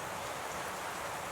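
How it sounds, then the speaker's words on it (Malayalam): Light rain falls steadily as a dense, even patter with no break, close by and alone, with no voices. "മഴ നന്നായി കുറഞ്ഞ പോലെയുണ്ട്."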